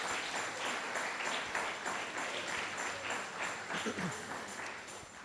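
A church congregation claps steadily and warmly, a continuous wash of many hands at moderate distance, sustained for several seconds before easing slightly at the end.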